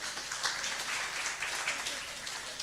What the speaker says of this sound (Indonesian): kasih tepuk tangan buat Pak Purba.